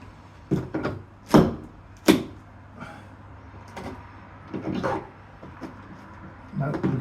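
A hammer taps on an old wooden sash window during a pulley repair and re-roping job, several sharp separate knocks spaced irregularly, two louder ones early on, with light handling noise between.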